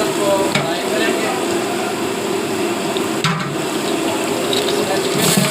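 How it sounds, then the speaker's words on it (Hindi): Chicken pieces frying in oil in a pan with onions for biryani, a loud steady sizzle and bubbling hiss throughout with a few brief stirring scrapes. "चिकन को फ्राई करेंगे।"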